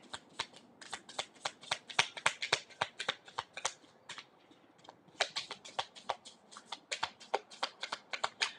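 Tarot cards being shuffled by hand in two long bursts of rapid crisp riffling clicks, separated by a short pause near the middle, close and fairly quiet with no talking.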